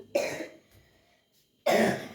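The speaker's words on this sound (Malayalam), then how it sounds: "എന്താ ചുമയ്ക്കുന്നേ" A person coughs twice up close, two harsh, throaty bursts about a second and a half apart with quiet between them.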